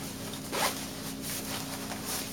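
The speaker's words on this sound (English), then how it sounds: "This zipper in this purse is going." A zipper on a purse being pulled open in one quick, close rasping stroke, followed by faint handling rustle in a quiet room.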